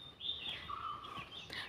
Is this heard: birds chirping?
yes